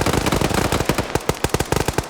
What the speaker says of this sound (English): Grenades going off.